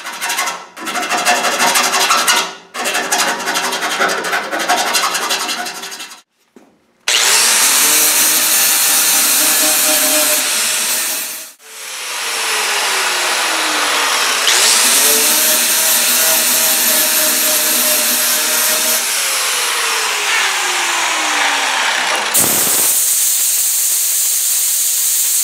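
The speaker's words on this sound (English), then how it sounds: "as far as gross grinding goes, that's all I'm going to do for now" A power grinder works weld metal on a Triumph Spitfire car body during paint prep, loud harsh whining bursts that stop and restart, then a long sustained grind with falling pitch sweeps as the tool spins down.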